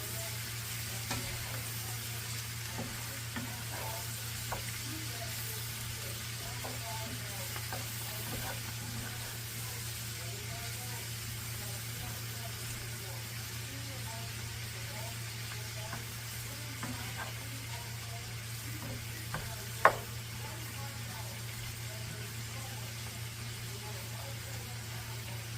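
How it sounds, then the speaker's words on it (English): Onions sizzle softly in bacon grease in a pan and are stirred now and then, giving a steady low fry with light scraping taps and a steady hum underneath. "Now I'm just going to break up the onions a little and kind of stir everything up so that it can get coated in that yummy bacon grease."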